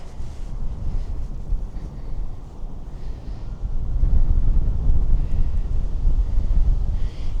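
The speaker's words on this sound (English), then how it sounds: "Okay, so much wind." Strong wind roars across a city rooftop in Montreal, a loud, steady buffeting rumble on the microphone that swells stronger halfway through, with no talking.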